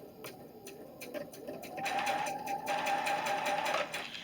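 A sewing machine runs a quarter-inch seam joining fabric pieces of a nine-patch quilt block, a soft close whir that builds midway and holds steady with faint ticking from the needle.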